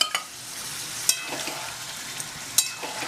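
Ginger, green chili and garlic paste frying with mutton in a pan, a continuous hissing sizzle with a few sharp clinks and stirring knocks spaced through it.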